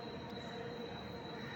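Steady rumble and rolling clatter of a train moving at Dronagiri railway station, a continuous rail noise of wheels on track heard at moderate distance with no speech over it.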